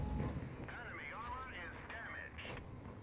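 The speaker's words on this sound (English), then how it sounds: "Missile goes crazy." A missile launches during a competitive video game match as a booming, gunfire-like blast with whistling, sweeping tones, heard mid-range under a caster's running commentary.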